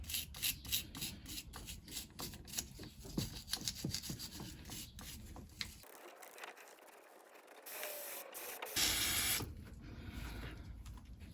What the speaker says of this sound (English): give it a spray down with some brake cleaner